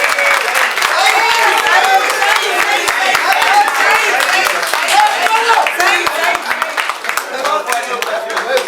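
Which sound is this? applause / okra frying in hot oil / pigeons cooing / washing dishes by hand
applause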